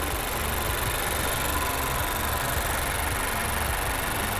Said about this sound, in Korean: 엔진 소리도 일정합니다.